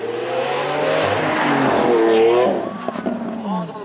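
A Lamborghini Aventador's 6.5-litre V12 engine roars close by, revving high and climbing, then easing off with crackles as the car brakes and changes down on a track.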